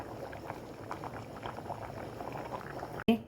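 A pot of fish curry bubbling at a steady boil up close, soft popping bubbles throughout, ending with a sudden clunk.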